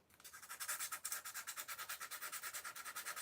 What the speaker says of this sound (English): Sand it right here too, because no one wants to see the ugly bits of the ship.